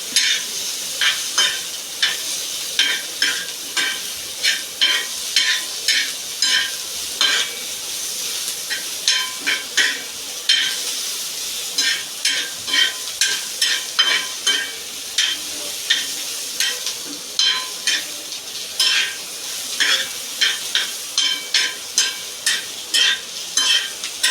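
Onions fry in hot oil for a peas curry, sizzling steadily while a spoon scrapes and stirs the pan in quick, repeated strokes that give a rhythmic pattern of bursts.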